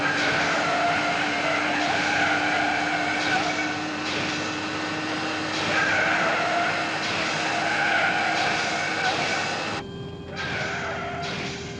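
Aircraft tires skidding on a runway under heavy braking after the brakes fail in a 1976 airliner emergency drama, a loud continuous roar and screech lasting throughout, with a sudden shift near the end.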